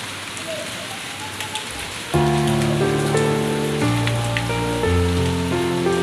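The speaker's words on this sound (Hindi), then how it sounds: "हो रही है बारिश" Rain falls on a surface as a steady, close hiss. About two seconds in, a louder tonal musical sound starts and plays over the rain for the rest of the stretch.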